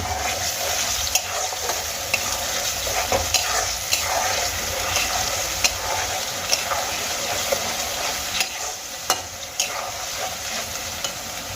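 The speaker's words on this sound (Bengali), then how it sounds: "সম্পূর্ণ মশলার পেস্ট আমি তেলের মধ্যে দিয়ে দিয়েছি এবার খুব ভালো করে নাড়িয়ে নেব" A spice paste of onion, ginger, garlic and tomato fries in hot oil with a constant close sizzle, while a utensil stirs it with frequent sharp clicks and scrapes against the pan.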